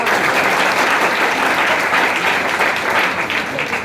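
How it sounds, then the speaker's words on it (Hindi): Loud, sustained applause from an audience at a prize distribution honoring toppers, a dense, even wash of many hands clapping close by for several seconds, with no talking over it. "इस सम्मानित के लिए एक बार ताली."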